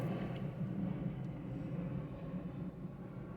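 Low, steady rumble of an airplane passing overhead, distant and continuous, with no talking.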